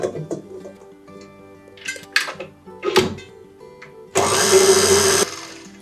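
An electric mixer whips egg whites for a meringue in a home kitchen: a loud, steady whirring burst of about a second that stops abruptly, after some scattered clatter of bowls and utensils.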